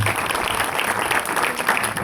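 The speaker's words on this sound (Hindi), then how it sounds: "Please clap for them." Dense, steady clapping from a church congregation honoring its pastors, close and continuous throughout.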